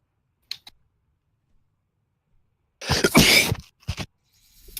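A sharp sneeze bursts out during a World of Warcraft Mythic Antorus raid, preceded by two faint clicks and followed by a brief sniff-like trailing burst, with no talking.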